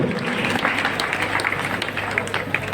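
An audience claps at a motivational business seminar, a sustained, moderately loud burst of many hands at an even level, with scattered sharper claps standing out and no distinct talking.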